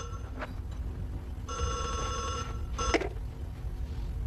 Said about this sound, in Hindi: देखो बेटे फोन जल्दी से।